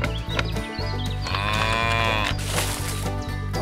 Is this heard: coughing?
no